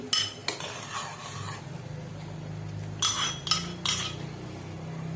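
A tempering mixture is poured from a small ladle into French onion soup with processed cheese and then stirred. Close metal clinks and scraping come in short bursts over a low steady hum.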